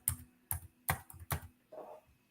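A computer keyboard being typed on in short bursts of clicks, five quick clusters of keystrokes close by, each burst separated by a brief pause, with no voices.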